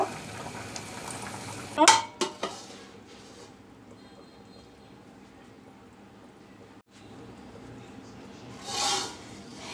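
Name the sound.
pea lentil dal boiling in pot, being stirred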